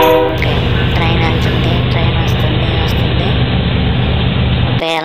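A toy train runs steadily for about five seconds with a continuous mechanical rumble and whir, loud and close, then stops abruptly near the end.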